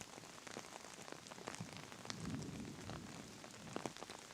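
Rain falls steadily outdoors during a disc golf tournament round, a dense patter on surfaces with scattered louder drops throughout and no talk.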